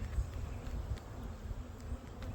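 Honeybees hum in a beehive with a low, steady, faint buzz that carries through the whole clip, with no other sounds standing out.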